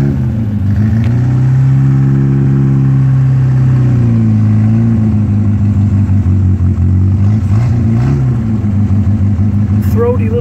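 A 1958 Morgan Plus Four's engine drones loud and close as the car drives down the road, its pitch rising with acceleration, holding, then dipping and climbing again through gear changes.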